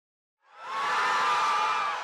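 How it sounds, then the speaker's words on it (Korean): Saudi delegation erupts in a roar at the Expo host vote result in Paris: a loud crowd cheer swells up after a brief silence and sustains with shouts and whoops. "투표 결과가 나오자 사우디 측의 함성이 터져 나옵니다."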